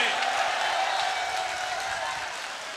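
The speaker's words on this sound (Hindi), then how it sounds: "एक बार दोनों हाथ खड़े कर जोरदार तालियां बजाकर मुझे हिम्मत दें" A crowd at a mushaira poetry gathering in Muzaffarnagar claps loudly, a dense steady wash of applause that tapers slightly toward the end.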